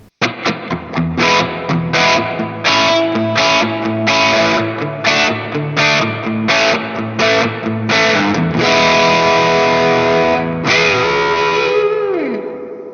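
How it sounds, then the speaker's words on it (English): Electric guitar in the middle pickup position plays a crunchy, mildly distorted tone through a Celestion Greenback speaker with added reverb, strummed chords in a rhythmic pattern before a long sustained chord rings out and fades with a pitch dip. "Kind of crunch tones in the middle."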